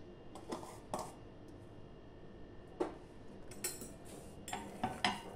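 A spoon scraping and clinking against a bowl while mixing vegetable filling into mashed potatoes for patties, soft intermittent taps and scrapes in a quiet kitchen.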